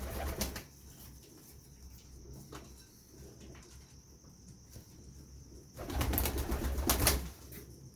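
A champion pigeon coos softly and close by, with a low murmuring burst at the start and a louder, longer cooing stretch near the end over a quiet background.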